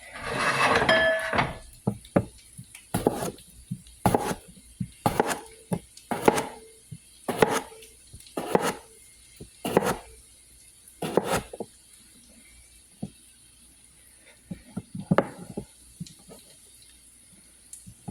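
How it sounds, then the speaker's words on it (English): Knife chopping potatoes into half-inch cubes on a cutting board: a steady series of sharp, close knocks, some clustered quickly, with brief pauses between runs. "So we're going to take and cut 3 potatoes now."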